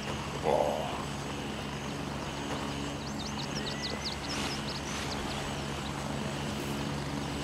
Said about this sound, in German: Gegnerischer Hubschrauber.